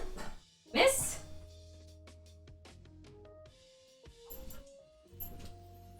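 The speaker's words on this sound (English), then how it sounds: "What are you barking at" A dog lets out a single sharp bark near the start, then soft whimpers and yips follow amid quiet indoor sounds.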